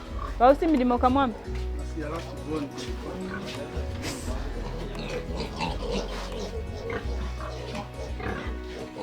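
Pigs and piglets on a pig farm, a mix of grunts and oinks with loud squeals at the start, heard close under ongoing speech.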